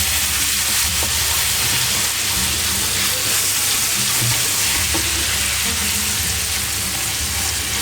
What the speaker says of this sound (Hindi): थोड़ा सा तो मैंने घी लिया था थोड़ा सा ऑयल तो डाल के मैंने लहसुन इसमें डाला।